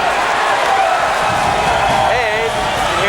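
A crowd at a 1996 regional high school wrestling final roars and cheers steadily, a dense loud wall of voices with whoops rising over it throughout.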